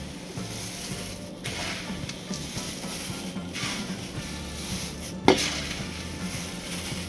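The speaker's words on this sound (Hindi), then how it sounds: "ये देखिए, पोहे हमारे सिक चुके हैं और आप इसका आवाज़ सुन सकते हो" Flattened rice (poha) is dry-roasted and stirred in a pan, giving a steady crisp rustling and scraping with an occasional clank of the spoon against the metal.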